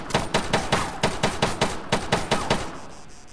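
Machine gun fire from the Arma 3 military shooter, a close, loud string of about a dozen evenly spaced shots in a steady rhythm that stops abruptly near the end.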